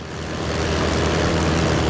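A steady, loud propeller airplane engine drone in the Prepar3d flight simulator, rising slightly at first and then holding a constant broadband roar with a low throb underneath.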